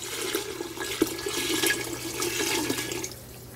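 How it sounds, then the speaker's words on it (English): Water poured from a container into a cooking pot for soup in a home kitchen, a steady, fairly close splashing pour of about three seconds, with no talking over it. "gonna pour in the water"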